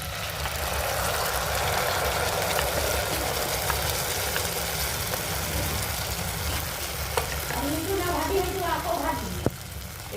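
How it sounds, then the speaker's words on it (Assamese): Cashew paste poured into onions frying in a pan for a paneer dish, giving a steady sizzle that rises into sharper crackling near the end; a voice talks over parts of it. "তাৰপিছত আমি পেষ্টটো ঢালি দিম ইয়াতে"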